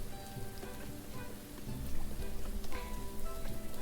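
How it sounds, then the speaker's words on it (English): Rain falls in a video game, a constant soft hiss with scattered droplet taps. It carries on steadily throughout, and no one talks over it. "I mean, it's raining"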